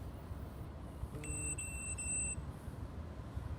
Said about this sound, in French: Je règle mon minuteur.